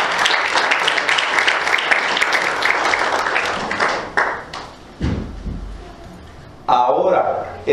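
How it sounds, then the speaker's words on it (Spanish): A church congregation applauds a group of young people with loud, dense clapping for about four seconds. It then thins out into a few scattered claps as a speaker's voice takes over. "Denle un aplauso, Señor, por estos jóvenes."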